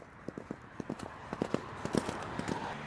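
Racehorses walking down to the start at a British point-to-point meeting, their hooves giving a steady, uneven clip-clop of close, distinct hoof strikes on the ground, with faint background murmur.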